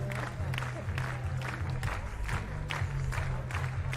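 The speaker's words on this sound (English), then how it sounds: "she claps along to her choice of introduction music" At a women's long jump competition at Jump Fest in Košice, the crowd claps in a steady, quick rhythm along with an athlete's chosen introduction music, the claps sounding close and continuous over the music for the whole stretch.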